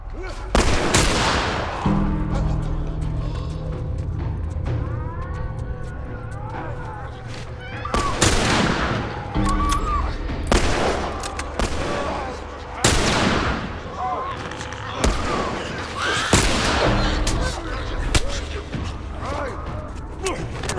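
Gunfire in the video game The Last of Us comes as repeated loud, sharp shots with echoing tails, spaced irregularly among clanks and creaks, while people talk over the action.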